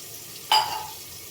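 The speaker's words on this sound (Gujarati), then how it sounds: "એક ડીશ મૂકી અને એમાં પાણી નાખી" Water is splashed into a dish set up for steaming mango, giving one brief, close hiss-like sizzle that quickly fades into a quiet background.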